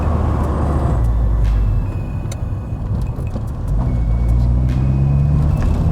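A Saab car engine pulls hard along a UK B road, a loud close drone rising and dipping as gears shift, with faint clicks and rattles inside the cabin.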